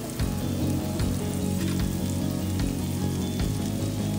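Fish stir-fries in a pan with hoisin, green chili sauce and tomato ketchup, a constant loud crackling sizzle with occasional sharper pops and spatula strokes, heard up close.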